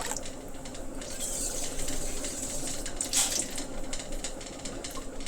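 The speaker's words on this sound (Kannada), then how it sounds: "ಒಂದು ಪಾವಿಗೆ ಎರಡು ಚಂಬು ನೀರು ಹಾಕ್ಬೇಕಾಗುತ್ತೆ" Water runs steadily into a pot of Rajamudi rice, a continuous splashing pour at close range with no talking.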